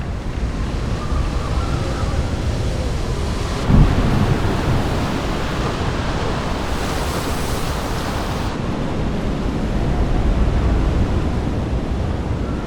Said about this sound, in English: storm is brewing.